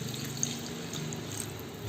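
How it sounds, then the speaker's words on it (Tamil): Water is poured into a cooking pot for mutton biryani, three tumblers to two of rice, as a steady, close, unbroken splashing stream with no talking. "இப்போ 2 டம்ளர் அரிசி 3 டம்ளர் தண்ணி ஊற்றியாச்சு"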